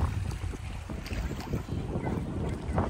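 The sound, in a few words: cool wind blowing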